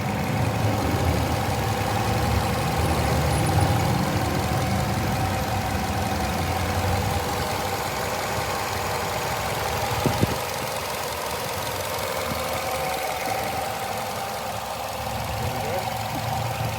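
A 2017 Nissan Rogue S AWD engine idles with the hood open, a steady low rumble close by and one small knock partway through.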